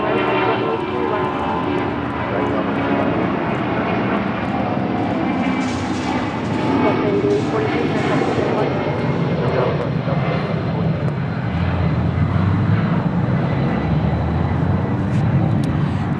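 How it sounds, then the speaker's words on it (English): A Delta Air Lines Boeing 757-200 taking off from LAX on its way to Phoenix, a loud, continuous jet engine roar that swells and rumbles deeper over several seconds, heard from close range. "8843 taking off to Phoenix on a 757-200"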